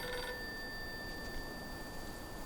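A telephone rings in the survival-horror video game Silent Hill f, a steady electronic ring sustained through the whole stretch over a low ambient hum, fairly quiet and with no voices.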